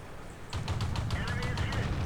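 Rapid series of sharp, loud bursts from a VK 16.02 light tank battle in World of Tanks on Steppes, starting after a quiet half second and repeating roughly every tenth of a second over a low rumble.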